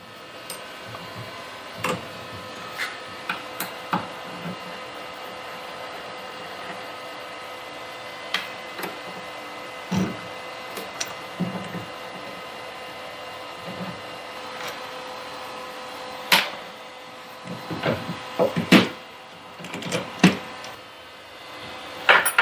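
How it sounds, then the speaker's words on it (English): A 6 mm hex wrench works socket head cap screws out of a mini lathe saddle in a quiet shop: scattered sharp metallic clicks and taps, sparse at first, then bunching into quicker clusters of clinks near the end. "There are 2 socket head cap screws. That must be these right here. That's the number 6 millimeter hex wrench."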